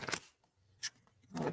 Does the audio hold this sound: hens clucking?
no